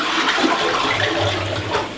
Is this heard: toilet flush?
yes